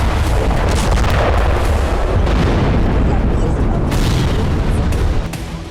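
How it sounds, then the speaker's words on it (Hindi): A huge explosion from the engine of an RS-28 Sarmat missile, heard as a loud, sustained roaring boom that rumbles continuously and then begins to fade near the end. "धमाके के बाद इतना बड़ा मशरूम क्लाउड बनने की वजह सरमद मिसाइल के इंजन में हुआ विस्फोट है"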